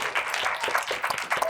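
Conference audience at an education event claps and cheers in a short, lively burst with irregular hand claps.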